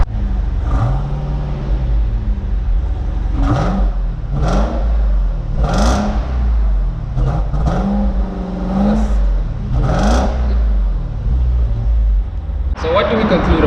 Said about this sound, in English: let's actually start up the car just so that you can hear what this sort of beast sounds like